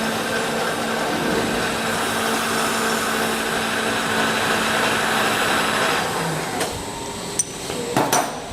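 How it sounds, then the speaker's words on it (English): A milling machine's power feed drives the table in a steady, loud mechanical drone with a grinding hum, close by and unbroken, ending with a few sharp metallic knocks. "I'm going to run my power feed over so I can beat it down"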